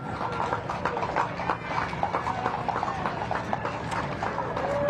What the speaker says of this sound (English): providing these amazing horses for parades